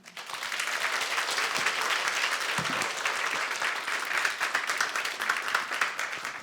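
A church congregation applauds after a special lecture, with a full, steady wash of clapping from many hands that swells quickly and holds for several seconds.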